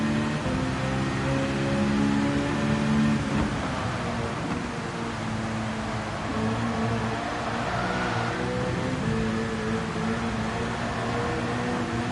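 Heavy rain during a Gran Turismo 7 race, a broad, steady spray hiss layered over a droning race-car engine whose pitch shifts gradually, with no voices throughout.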